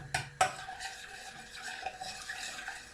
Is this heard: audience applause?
no